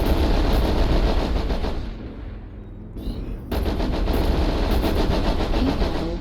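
A Warhammer IIC mech fires its weapons in the MechWarrior Online game, a loud sustained barrage of rapid gunfire that pauses briefly and then resumes just as dense.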